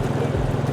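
A boat carries passengers on a day trip to Sambranikodi, giving off a low, steady rumble of engine and water with some wind buffeting the microphone, close and continuous for a brief moment.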